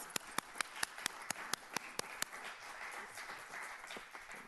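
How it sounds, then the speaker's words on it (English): Sparse applause at a January 2017 board meeting: about a dozen crisp, evenly spaced claps stand out over faint room murmur before thinning and trailing off. "So if we could have a big round of applause."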